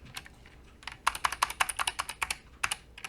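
Rapid computer keyboard key presses, a fast burst of crisp clicks at the start and then a steady run of distinct taps, close and alone, made while working in 3ds Max.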